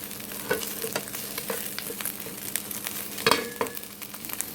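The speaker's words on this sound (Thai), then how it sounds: "คั่วเลยเลยครับให้น้ำมันมันเสด็จออกหมดเลย" Pork belly stir-fried in a pan as its fat renders out, a continuous close sizzle with repeated scraping and tapping strokes of the spatula, one louder clatter partway through.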